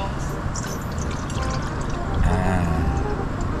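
Water pours and splashes into a wok to rinse it while cooking soup noodles outdoors on a beach, a steady running flow with voices talking over it.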